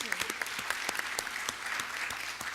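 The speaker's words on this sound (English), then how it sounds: "give Miss Wallace and the chorus a really nice round of applause" An audience at a school board meeting applauds an elementary school chorus and its teacher, with steady, dense clapping from many hands throughout.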